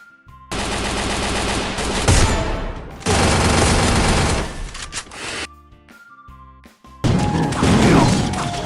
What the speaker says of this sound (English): Free Fire